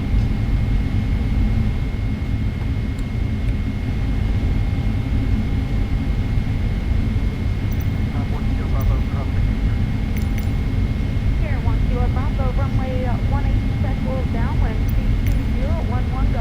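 A Boeing 777-300ER airliner lands at Kaohsiung airport with a steady, loud broadband engine roar filling the whole stretch, while air traffic control radio chatter comes through over it.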